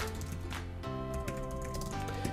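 Light clicking of a computer keyboard while text is typed into a WordPress page, steady and close, under a constant layer of tonal music.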